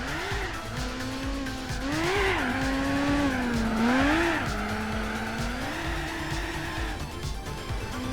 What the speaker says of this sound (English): Just trying to slide the car a little bit.